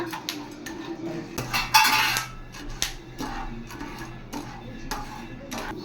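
A spoon clinks and scrapes in a bowl while instant popcorn ingredients are mixed, making irregular close metallic taps and rattles with one louder clattering burst.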